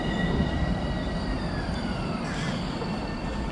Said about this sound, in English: I think that's an 8-car train on this guy